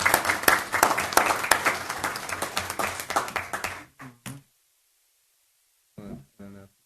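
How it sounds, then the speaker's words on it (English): An audience at a La Verne city council meeting applauds committee members with brisk, distinct clapping that thins out and stops partway through, followed by silence and a few brief bumps or taps. "I want a round of applause for ad hoc committee members"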